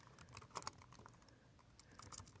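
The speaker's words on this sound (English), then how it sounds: "And I'm going to go ahead and start typing in my text." Keys clatter on a computer keyboard as HTML5 text is typed, a quiet, irregular run of light clicks with a few sharper keystrokes.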